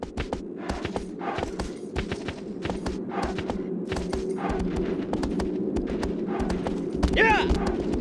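Rapid, rhythmic hoofbeats clip-clop steadily throughout, a horse trotting along in the video game Shadow of the Colossus over a low background hum, with a faint voice briefly near the end.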